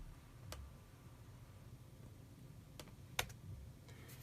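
Keys clatter on a computer keyboard in quiet, sparse bursts with a few sharper clicks, no voices over them.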